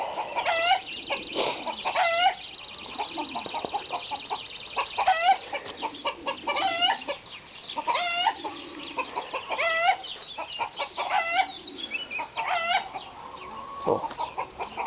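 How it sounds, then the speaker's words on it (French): Chickens cluck in repeated short bursts around a vegetable garden, a busy mid-distance chorus of calls spread across the whole stretch. "J'ai encore un oiseau qui vient gratter là-bas."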